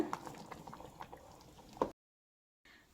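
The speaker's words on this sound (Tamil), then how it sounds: "நல்லா கொதி வந்துடுச்சு" Cauliflower kurma gravy bubbles at a rolling boil in a pot, a soft, busy burble with one louder plop near the end before the sound cuts out briefly and then resumes faintly.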